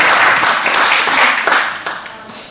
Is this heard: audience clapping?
yes